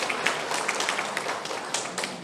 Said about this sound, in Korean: 우리 한번 축복하며 박수 한번 합시다.